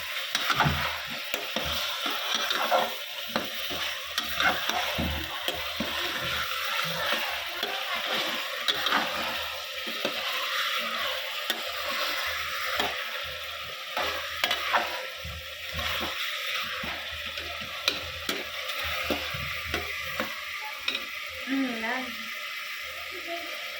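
Onions frying in oil in a pan for a Kathiyawadi country-chicken curry, stirred steadily with a spoon, giving a continuous sizzle broken by repeated scraping strokes, close and moderately loud, with occasional speech over it.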